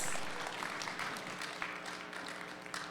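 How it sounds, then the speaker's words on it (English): A student audience at a spoken word poetry event claps for the first-half poets, a faint, continuous patter of many hands heard from a distance. "A round of applause for our first half performers."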